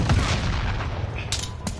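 Gunfire in Call of Duty, a short burst of booming shots with rumbling low end, followed by two sharper cracks, loud and close in a dense game mix.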